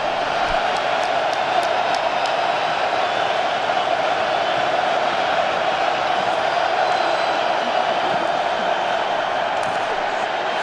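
A stadium crowd at an XFL football game roars in a loud, continuous wall of cheering and yelling, with no break across the whole stretch.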